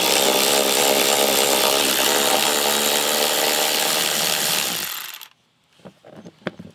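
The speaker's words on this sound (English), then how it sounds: "using a wrench and a T50 Torx bit, you're gonna come down here and you're gonna take each one of these bolts out" Tool removing a car's seatbelt anchor bolts with a T50 Torx bit: a loud, steady, close motorized whine for about five seconds, then it cuts off, leaving a few faint clicks and knocks.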